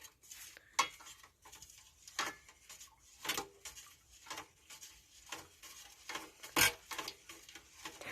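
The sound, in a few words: stirring ingredients together for homemade plai balm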